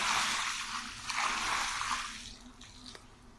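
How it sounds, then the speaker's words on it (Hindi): Water poured over a blanket during hand washing, a soft splashing gush that tapers off into trickles and drips, fairly faint. "इसके ऊपर भी पानी डालेंगे"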